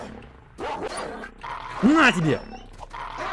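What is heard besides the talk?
dogs barking and whimpering in S.T.A.L.K.E.R.: Lost Alpha video game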